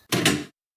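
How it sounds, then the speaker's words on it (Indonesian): A door is flung open hard, one brief forceful bang-and-swing burst lasting half a second, close and loud, then abrupt silence. "pintu terbuka dengan keras saat Donna bergegas masuk"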